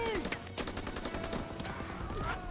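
Machine gun fire from a hayloft emplacement during the D-Day landing in Call of Duty WWII, rapid, loud repeated bursts rattling continuously over a dense battlefield din.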